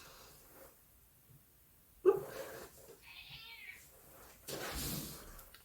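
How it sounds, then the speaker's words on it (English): A hungry cat asks for its food with a few soft meows and breathy sounds close by, faint and separated by quiet gaps. "Yeah, cat, I know you want your food."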